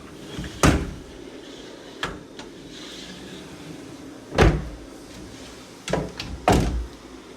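A repaired room door in a rented room is opened and closed several times during a move-in inspection, giving sharp knocks and thuds separated by pauses in a quiet indoor space.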